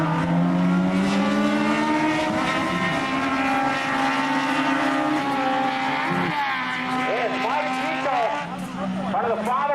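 Race cars accelerating hard out of turn 4 at Tosa Raceway Park, several engines roaring and rising in pitch at once, loud and sustained, with a commentator's voice running over them.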